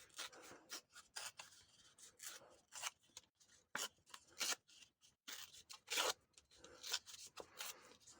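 A paper label edge being ripped off by hand for ephemera crafting, giving a run of short, dry tearing and rubbing bursts in an irregular rhythm, fairly quiet and close with no talk.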